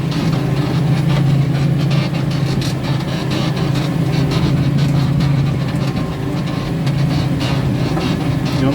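A New Holland Power Star tractor engine with nearly 10,000 hours on it runs steadily and loudly up close, a continuous low diesel drone with a rough, throbbing texture that holds without pause.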